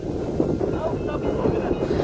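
Strong wind blows across a hilltop at Kurishumala in Kakkadampoyil, a constant loud rushing roar buffeting the microphone, while people talk faintly underneath.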